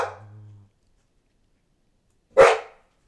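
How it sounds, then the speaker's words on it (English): A pet dog barks twice, one bark at the start and a sharp, close single bark about two seconds later, with silence between. "He likes to bark."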